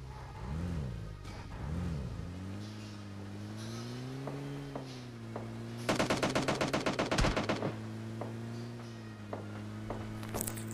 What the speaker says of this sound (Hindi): अब मेरी टीममेट के पास में फायरिंग हो रही है